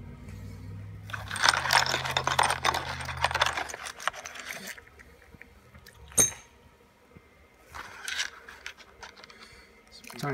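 Small metal parts, including tiny screws, clatter and rattle as they are pulled from a dirty container for a homemade ultrasonic cleaner, a dense burst of jingling near the mic followed by a few scattered clinks.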